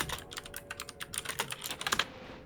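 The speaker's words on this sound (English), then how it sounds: "you are typing very loudly" Loud typing on a computer keyboard, with rapid irregular key clacks in quick bursts running nearly continuously and close to the microphone, heard during a Silent Hill PSX game session.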